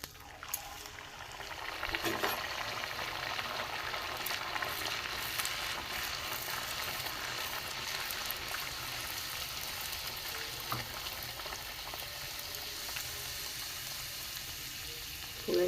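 Pea-filled kochuri deep-fries in hot oil with a continuous, even bubbling sizzle for about fifteen seconds. A few soft knocks and clinks of utensils sound over it, and nobody speaks.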